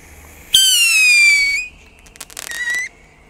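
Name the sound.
firework rocket whistling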